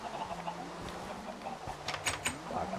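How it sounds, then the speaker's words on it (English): Minecraft chickens making soft clucking and fowl chatter in the game, faint and scattered over a low background, with a few brighter clicks near the end and no talking. "I know these chickens do not think they're about to escape from me."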